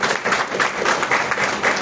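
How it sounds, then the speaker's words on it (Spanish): A crowd applauds steadily for the whole stretch, a dense patter of many hands clapping at moderate volume. "le damos un fuerte aplauso"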